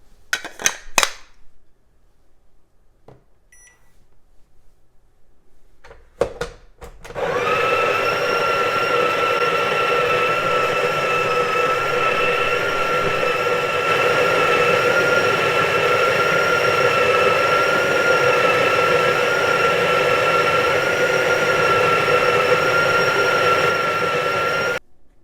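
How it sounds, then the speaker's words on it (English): A Breville Barista Pro espresso machine grinds coffee beans with a steady, loud whirring drone. A few clicks and taps come first, then the grinder runs alone without a break for about eighteen seconds. "Now let's grind some coffee beans."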